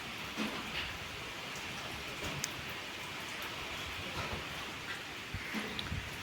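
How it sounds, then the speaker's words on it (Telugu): Heavy rain falls outdoors near trees where birds shelter, a soft, even hiss with scattered drops, steady and fairly distant. "విపరీతమైన వర్షం."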